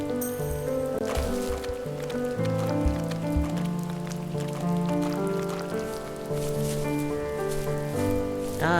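Steady rain pours down in the video game The First Tree, a soft continuous patter spread across the whole stretch beneath loud, sustained game music.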